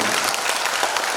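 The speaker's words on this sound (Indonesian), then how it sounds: "Kita berikan tepuk tangan." Dense, loud applause fills a hall at an organizational ceremony as the audience claps together in a brief, steady burst.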